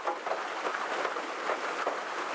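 Steady rainfall outdoors, a soft continuous hiss of drops with slight fluctuations, fairly quiet and heard alone without voices.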